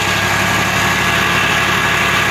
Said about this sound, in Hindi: अभी जो है ट्रैक्टर फिर से स्टार्ट, ड्राइवर बैठ रहा है